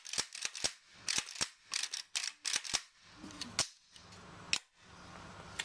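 Sharp mechanical clicks from a function check of an AK Tapco G2 trigger group, a series of close, crisp snaps in irregular pairs with a quieter click near the end, no talking.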